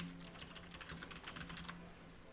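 Quick bursts of keystrokes from a loud computer keyboard, close and crisp, a steady flurry of clicks over faint background hum.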